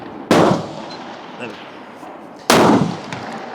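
Two sharp, loud rifle shots from a scoped Swiss Martini Jagdstutzer sniper conversion fired outdoors at long range, about two seconds apart, each with a brief echoing decay.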